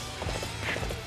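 Horse hooves clip-clop at a steady galloping rhythm in the video game Dynasty Warriors 8 Empires, a rapid pattern of hoofbeats set within a dense, busy game soundtrack.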